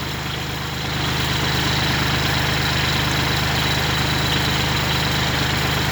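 A Kubota L36 tractor engine driving a water pump chugs loudly and steadily, rising in level after the first second and then holding a constant rumbling drone.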